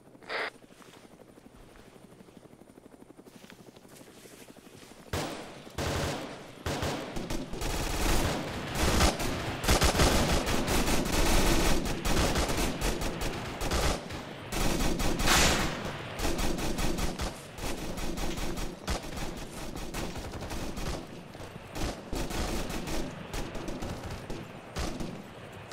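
Game gunfire in a military squad firefight laying down suppressing fire, rising from sparse shots into sustained dense automatic bursts and rattling volleys that continue to the end, with a helicopter-like drone underneath.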